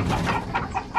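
Chickens on a backyard property cluck in short repeated bursts, about four quick calls in a second, close by with no talk over them.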